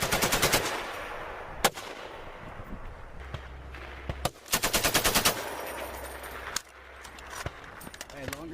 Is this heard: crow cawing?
no